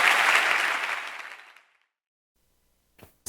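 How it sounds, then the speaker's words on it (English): A church congregation claps together loudly, a dense burst of applause that fades out over about a second and a half, then silence before a brief sound near the end. "Those hands can be louder and better for Jesus Christ."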